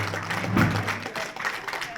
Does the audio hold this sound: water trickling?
no